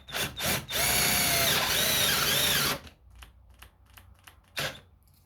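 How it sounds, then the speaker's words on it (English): A 12-volt cordless drill bores into a workbench: a few quick motor blips, then a steady loud whine of about two seconds that stops abruptly, followed by faint ticking and one more brief burst, close and with no talking. "I should get a little block so I don't have to drill into the bench"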